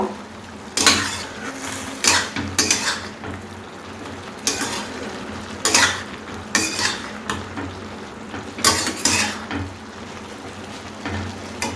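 Ginger paste stirred into bottle gourd shukto in a pan: a spoon scrapes and clatters in repeated bursts, about eight strokes, over a low background sizzle, close and fairly loud.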